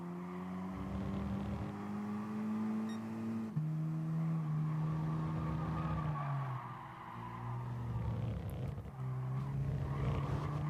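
Race cars in Gran Turismo Sport's GT League career mode roar with sustained engine notes that rise and fall through gear changes, while tires squeal and skid under braking through corners.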